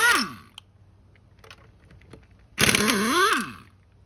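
A VEVOR half-inch, 1400 ft-lb air impact wrench runs in reverse to pull lug nuts off a wheel. It opens with a short burst of rattling hammering that winds down, then a quiet stretch with faint clicks, then a second loud hammering burst of about a second.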